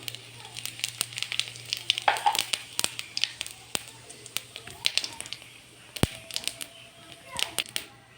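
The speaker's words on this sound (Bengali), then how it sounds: "তেলটা গরম হয়ে গেছে, আর আমি এই যে জিরে ফোড়নে দিয়ে দেবো।" Cumin seeds hit hot oil and sizzle and crackle with frequent sharp pops, close by and fairly loud, over a low steady hum.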